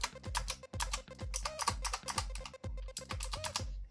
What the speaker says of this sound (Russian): Вот так вот звучат длинные кнопки.